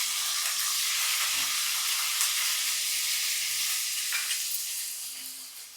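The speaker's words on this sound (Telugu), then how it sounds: "కొంచెం జీలకర్ర వేసుకున్నాను, పచ్చిమిరపకాయలు వేసుకున్నాను," Cumin seeds and green chillies frying in hot oil make a loud, continuous sizzle up close, with faint stirring movements underneath and the hiss easing slightly toward the end.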